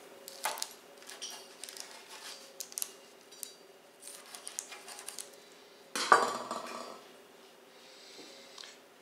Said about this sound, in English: I'm going to cut into one so you can see what the interior looks like.